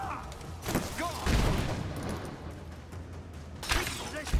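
Gunfire erupts in the video game Rise of the Tomb Raider, loud bursts and impacts crowding a mine fight, with sharp shots near the start and again toward the end amid constant combat noise.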